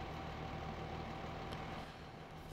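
A tractor engine idles in Farming Simulator 15, a steady low rumble that holds evenly throughout with no talk over it.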